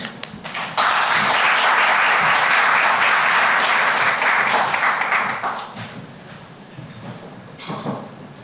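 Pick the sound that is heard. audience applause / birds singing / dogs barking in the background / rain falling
audience applause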